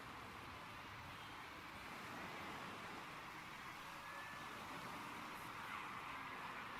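Race cars circling a track in a motorsport management video game give a steady, faint, distant broadband roar that holds evenly throughout with no talking over it.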